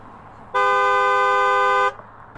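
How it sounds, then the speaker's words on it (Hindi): A single loud, steady car horn blast lasting over a second, close and clear, with quiet surroundings before and after. "कार की आवाज ऐसी होती है।"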